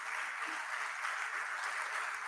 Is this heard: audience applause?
yes